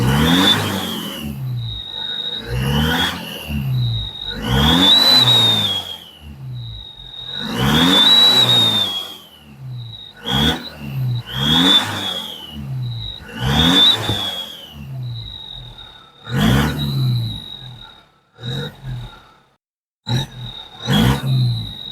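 A stationary car with an aftermarket turbo whistle fitted is revved repeatedly, each loud engine roar carrying a sharp high whistle that rises and falls, in about eight bursts with short pauses between.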